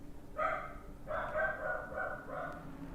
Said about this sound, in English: If only my dog would be quiet.